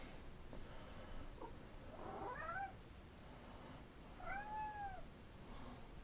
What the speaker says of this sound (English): You're just noticing I'm in the kitchen, so you like to meow.